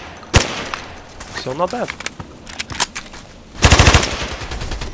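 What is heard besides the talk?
AEK-971 rifle automatic fire in the video game Contract Wars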